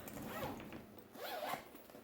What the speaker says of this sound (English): we have a nice large zipper pocket right there